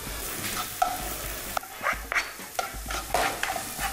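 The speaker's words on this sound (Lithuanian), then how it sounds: "Mūsų svogūnai su salierais yra reikalingos konsistencijos, dedame ryžius" Onions and celery sauté in a pan for beet risotto, a soft continuous sizzle with intermittent spoon scrapes and stirring clatter, close up with no talking.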